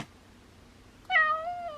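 Kitten meowing as it begs for food, a single clear drawn-out meow that comes after about a second of near silence, close and fairly quiet.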